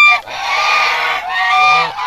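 Geese honk loudly and close by in two long, harsh calls with a short break between them, clear and alone.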